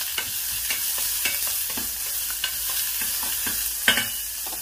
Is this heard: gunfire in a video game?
no